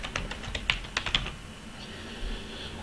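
Quick bursts of keystrokes on a computer keyboard, a short run of crisp taps close by, then a pause with faint room noise.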